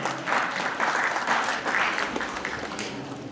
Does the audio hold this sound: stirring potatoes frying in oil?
no